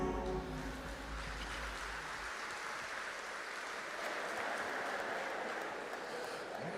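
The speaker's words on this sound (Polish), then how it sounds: "bardzo dziękujemy za te brawa" Applause from the audience at an MMA gala studio: a steady wash of clapping heard from a moderate distance, following a brief low tone at the start, with no clear talking over it.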